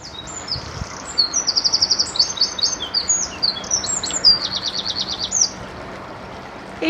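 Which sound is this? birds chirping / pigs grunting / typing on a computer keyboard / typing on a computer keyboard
birds chirping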